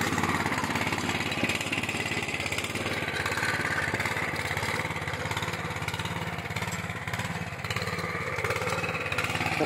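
A mini plough tractor engine warms up at idle outdoors, a steady, continuous mechanical chugging with a fast regular pulse, loud and close throughout with no talking.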